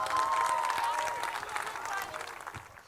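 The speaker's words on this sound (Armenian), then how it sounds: "եկեք բարձր ծափողջություններով մեր շնորհակալությունը հայտնենք նրանց" An audience at a Yerevan State University honoring and first-year oath ceremony applauds in a sustained wave of clapping that gradually fades, with a voice briefly heard over it.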